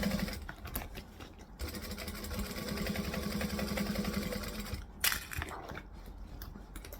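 A sewing machine stitches around the top of a bag, running as a steady, close mechanical whir with a fast needle rattle. It pauses briefly, restarts, then ends in a short clatter.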